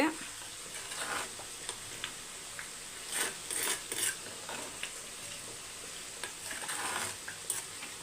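Close, crackling sizzle of a thick curry leaf curry bubbling in a pan, oil separating, with scattered pops and splatters over a steady hiss.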